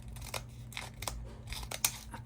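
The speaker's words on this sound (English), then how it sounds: "I'm gonna cut it and use that wallpaper." Scissors snip through a sheet of wallpaper being cut up for a craft board, giving a few quick, close, crisp cuts and paper rustles over a low steady hum.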